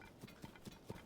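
Horse hooves clip-clopping in Zelda: Tears of the Kingdom, four even, moderately paced steps at a steady rhythm, fairly quiet and alone with no talk.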